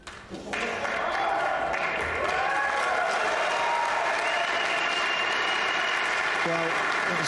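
Spectators at the 2024 World Pool Masters final break into sustained applause after a good pot, the clapping swelling quickly and holding steady, with commentators speaking over it.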